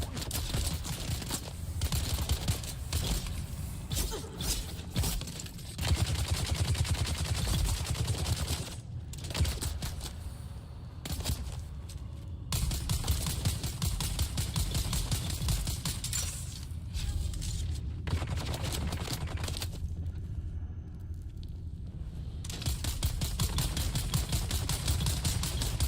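Rapid gunfire bursts and fusillades in the video game Dune Awakening, loud and dense throughout, with brief lulls between volleys and occasional shattering impacts.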